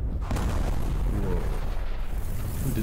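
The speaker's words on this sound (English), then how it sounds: "Explosion at St. Martha's School." A bomb goes off at a primary school in the video game Liberated: a loud, sustained rumbling blast with a heavy low roar filling the moment, no voices over it.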